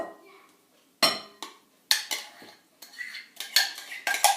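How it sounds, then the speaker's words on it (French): A spoon scrapes and clinks against a bowl while cherry and fromage blanc cheesecake batter is stirred, in irregular bursts of sharp knocks and scraping strokes with quiet gaps between. "Et on va tout mélanger."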